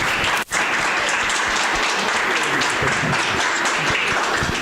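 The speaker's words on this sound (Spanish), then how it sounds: "Vamos a darle un aplauso a Jesús" Sustained, dense applause from a large crowd, steady and loud throughout after a brief dip at the start.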